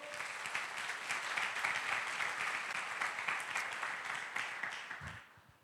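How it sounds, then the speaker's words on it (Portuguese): A church congregation claps together in a dense, even wash of applause that holds steady for several seconds and then quickly dies away near the end. "Aplauda o nome do Senhor."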